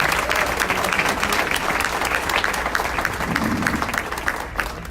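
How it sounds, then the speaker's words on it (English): A crowd at a community breakfast claps continuously, giving a steady round of applause that stays loud and full for the whole stretch, with faint room murmur beneath. "One more round of applause for the Fox Valley Park District."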